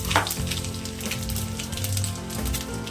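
Chillies and garlic crackle and sizzle in hot oil for tempering, a continuous close frying hiss with sharp little pops and no voices.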